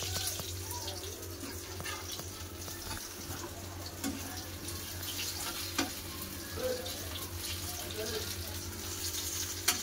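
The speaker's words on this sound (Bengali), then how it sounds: "বেগুন ভাজা হয়ে গেছে, এবার তুলে নেবো।" Eggplant slices crisp in hot oil, a faint, steady sizzle running close throughout with occasional soft pops and clinks.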